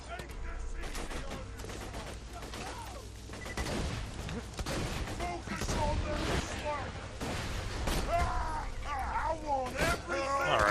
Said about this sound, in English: Alright, so this sniper rifle is doing great.